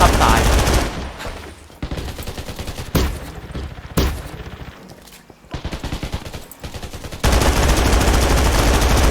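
Rapid bursts of M249 machine gun fire in the video game Undawn, sustained rattling volleys broken by short pauses, loud and close.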